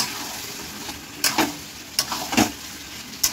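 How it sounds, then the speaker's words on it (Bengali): Mutton sizzles softly in oil in a pan as it is fried down for kosha, a steady low crackle broken by a few clinks and scrapes of a spoon stirring. "আমার এখানে মটন কষা বসিয়ে দিয়েছি"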